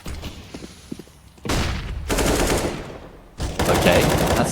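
Gunfire rattles through a Counter-Strike (CSGO) match as repeated automatic bursts, with sparse shots at first and then loud sustained volleys that stop and start, while a commentator's voice runs underneath.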